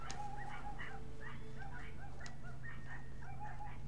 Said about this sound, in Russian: Собаки, блядь, за окном лают.